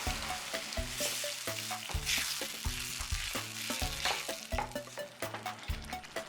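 Tomato sauce is stirred into a sizzling pan for eggplant pasta alla Norma, giving a steady close frying hiss with stirring scrapes and a soft tonal background underneath.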